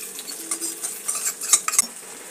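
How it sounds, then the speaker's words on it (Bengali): A spoon stirs cornflour into water in a bowl, giving close, light clinks and scraping swirls in a quick irregular rhythm over about two seconds, with no talking. "দেখো খুব ভালো করে আমি গুলে নিচ্ছি"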